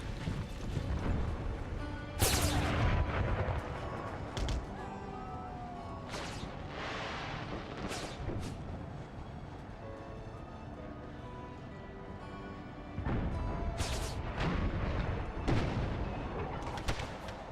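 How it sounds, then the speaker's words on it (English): Artillery barrage from Empire: Total War with the Brothers vs. Brothers Civil War mod: loud, booming cannon blasts and crashes arrive in irregular bursts every second or two over a constant rumbling battlefield din, with no letup. "What an artillery barrage, just non-stop."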